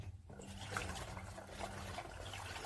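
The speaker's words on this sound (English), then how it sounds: "So we'll go ahead and pour them into the fermentation tank." Pineapple peel wine is poured into a fermentation tank, making a soft, steady trickling of liquid that runs continuously at low volume with no voices.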